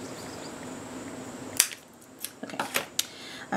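Scissors snip through lace for an angel wing Christmas ornament, a quiet room tone followed by a handful of crisp, close cutting clicks spaced unevenly over a couple of seconds.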